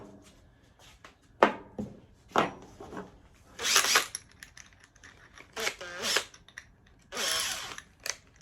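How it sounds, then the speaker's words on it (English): An 8mm drill bit bores through a plastic headlamp from a Peugeot J9 van in several short, loud bursts separated by pauses. "I'll get an 8mm drill bit there, which is pretty perfect. Let's whack these out to the right size."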